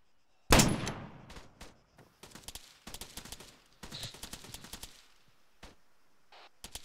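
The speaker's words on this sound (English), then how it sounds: "Good suppressive fire, Spit." Suppressive gunfire in the military shooter Arma 3: one loud close blast, then irregular bursts of rifle and machine-gun fire, some nearer and some more distant, tapering to sparse single shots.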